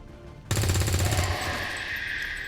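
A soldier fires in XCOM 2: a sudden loud burst of rapid automatic shots, then a ringing, fading tail.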